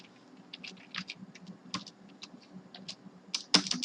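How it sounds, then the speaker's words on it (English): Fingers tap steadily on a computer keyboard while HTML script tags are entered, producing close, light clicks in irregular bursts with a sharper clack near the end and no talking. "So now I'm going to type into script tags."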